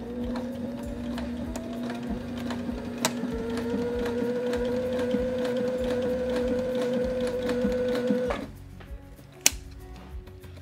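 A sewing machine stitches a hem on 2-inch seatbelt webbing with a binder feeder attachment, running as a steady droning hum with rapid clatter for about eight seconds, then stopping, followed by quieter handling and a sharp click.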